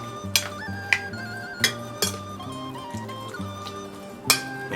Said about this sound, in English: And then you stir it all up.